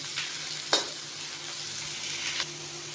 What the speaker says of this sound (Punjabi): ਹੁਣ ਆਪਾਂ ਇਸ ਵਿੱਚ ਲਸਣ ਪਾ ਦਵਾਂਗੇ ਤੇ ਇਸ ਨੂੰ ਵੀ ਆਪਾਂ ਪਿਆਜ਼ਾਂ ਦੇ ਨਾਲ ਹੀ ਭੁੰਨਾਂਗੇ